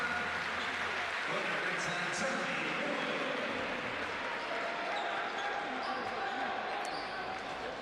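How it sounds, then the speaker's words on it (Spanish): A home crowd at the Lugo arena applauds during a Río Breogán vs KK Split basketball semifinal, a dense, steady wash of clapping with faint sneaker squeaks, under a commentator's voice. "aplaudido polo público o lucense"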